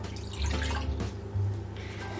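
Water, measured out at 200 ml for a cake batter, pours and splashes into a container in two short bursts, with light drips and clatter around them.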